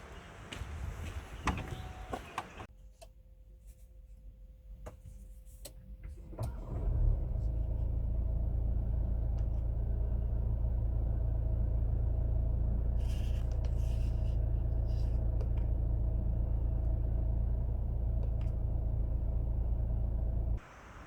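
A Seat Tarraco 2.0 TDI diesel SUV with 150 hp, DSG gearbox and four-wheel drive pulls away and cruises, its engine and road noise rising after a quiet start into a steady, loud low rumble.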